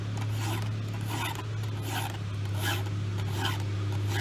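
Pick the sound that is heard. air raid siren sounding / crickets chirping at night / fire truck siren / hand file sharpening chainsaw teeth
hand file sharpening chainsaw teeth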